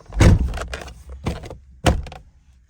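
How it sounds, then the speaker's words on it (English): Three solid thunks of a Mustang Cobra's door shutting, spaced about a second apart, close and fairly loud with short rattles after each. "now we're gonna close the door."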